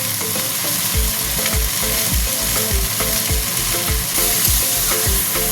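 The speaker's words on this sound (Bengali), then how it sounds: "শাকটা একটু নাড়া দিয়ে নিতে হয়, নয়তো কাঁচা গন্ধ থাকে" Saag greens with rohu fish are stirred in a frying pan, a steady sizzle of frying under rhythmic scraping strokes of the spoon, close and continuous with no talking.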